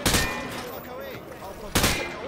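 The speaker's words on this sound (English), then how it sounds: "He sprayed bullets all over the damn place" Automatic rifle fire sprayed at range targets in Call of Duty: Modern Warfare 2, two loud sharp bursts at the start and near the end with a ringing, rumbling tail between.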